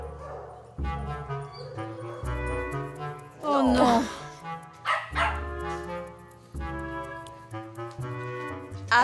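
Dogs at a dog daycare bark and yip repeatedly, several close and loud bursts with whines between them.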